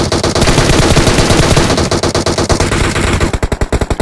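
Rapid automatic gunfire from the mobile game PUBG Mobile rattles loud and close in dense bursts, ending in a string of distinct, evenly spaced shots.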